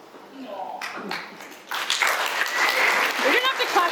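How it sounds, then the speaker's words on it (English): Wedding guests break into applause during a reception speech, a burst of clapping that swells from about the midpoint and carries on loudly to the end. "don't have to clap everything"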